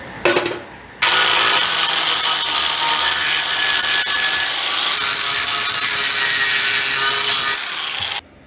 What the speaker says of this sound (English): let me get the grinder and clean that up a little bit